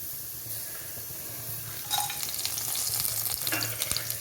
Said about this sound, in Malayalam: ഒരു ടേബിൾ സ്പൂണോളം എണ്ണ ഒഴിച്ചിട്ടുണ്ട് ആദ്യം ഇട്ട് കൊടുക്കുന്നത് ഹോൾ സ്പൈസസ് ആണ്